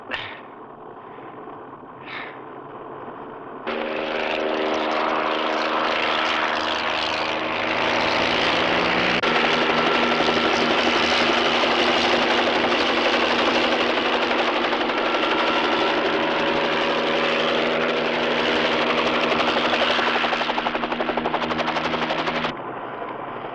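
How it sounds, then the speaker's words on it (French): Police helicopter in flight, a loud steady rotor and engine roar that starts abruptly after a short quiet lead-in and holds at constant, close intensity for about twenty seconds before cutting off. "Hélicoptère de la police!"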